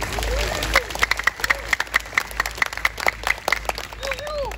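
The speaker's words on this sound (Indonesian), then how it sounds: "Tepuk tangan untuk beliau." Audience applauding a guest speaker at a religious gathering, rhythmic group clapping in a steady beat with crowd voices underneath.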